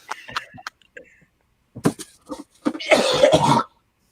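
A man coughs and clears his throat in a few short harsh bursts, ending in one longer heavy hacking cough, close and fairly quiet.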